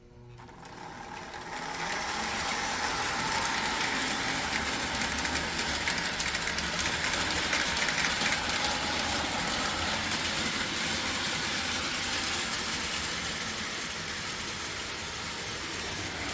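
A Lionel Chesapeake & Ohio O-27 toy steam locomotive runs steadily on its track, a loud continuous whirring motor hum with rapid rail clatter that rises after the first second and holds nearly level, with no voices.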